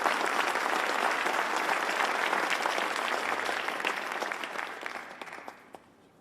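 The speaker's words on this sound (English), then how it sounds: "Let's give them a round of applause" A crowd at a ceremony honoring advocates of the 9/11 Victims Compensation Fund gives a warm round of applause for two senators; the clapping runs strong, then thins and fades out within six seconds.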